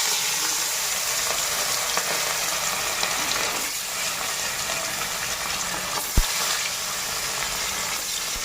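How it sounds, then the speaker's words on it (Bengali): Fish pieces fry in hot oil with a steady, even sizzle throughout, broad and moderately loud, with a brief utensil clink partway through and no talking. "এখন ভাজা করে নিই।"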